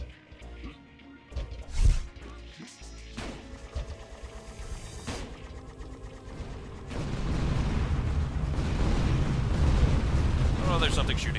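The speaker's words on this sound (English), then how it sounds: "Oh, there's something shooting at me." Enemies shooting at the player in Tower of Guns, with scattered crashing impacts and bursts early, then a dense continuous barrage of gunfire and explosions that swells and stays loud.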